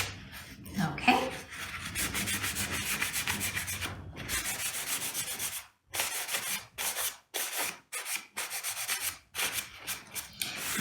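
Cerusing wax is rubbed off a wooden surface with a cloth, a steady close scrubbing hiss in repeated strokes with brief pauses between passes, heard on its own with no talking.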